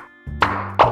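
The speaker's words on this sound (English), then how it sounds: "Now tap all the bubbles to pop them." Cartoon bubbles pop in the PAW Patrol: A Day in Adventure Bay children's game during Chase's bath time, three quick, bright plops in a second, close and loud over a soft musical tone.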